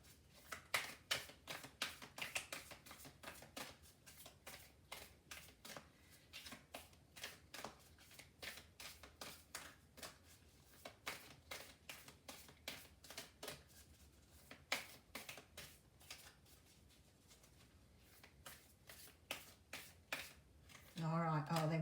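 An oracle card deck is shuffled by hand, producing long runs of rapid riffling taps and flicks in quick bursts, close and crisp, with a voice briefly at the end.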